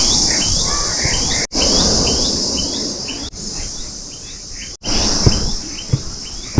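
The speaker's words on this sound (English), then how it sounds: "the insects are super loud out here" Loud, dense insect and cricket chorus on an early-morning coastal trail in Gokarna, India, a steady high-pitched buzz with scattered bird chirps, continuous and close, briefly cut a few times.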